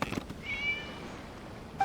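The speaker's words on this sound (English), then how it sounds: "It was just a cat." A cat in the Genshin Impact video game gives a short, faint meow that is over quickly, set against quiet ambient game sound.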